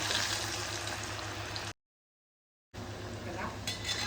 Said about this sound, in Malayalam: ഇതെല്ലാം ബ്രെഡ് ക്രംസിൽ ഡിപ്പ് ചെയ്ത് വെച്ചിട്ടുണ്ട്. ഇനി നമുക്ക് ഫ്രൈ ചെയ്തെടുക്കണം.